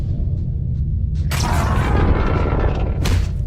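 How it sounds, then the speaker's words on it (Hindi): A sudden cartoon-style explosion bursts in about a third of the way through over a low rumbling bed, a loud noisy blast with a second sharp burst near the end, in a horror-themed animated story. "धमाके के शोर से तीनों जाग गए हैं।"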